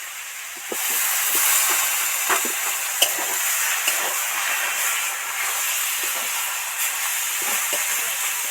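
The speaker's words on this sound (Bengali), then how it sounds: "এবার সামান্য একটু জল ছড়া দেবো" Water is sprinkled into banana flower curry in a hot pan, setting off a sudden loud hiss that settles into steady steaming sizzle, with faint occasional stirring clicks and no talking.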